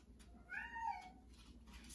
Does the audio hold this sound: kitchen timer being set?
no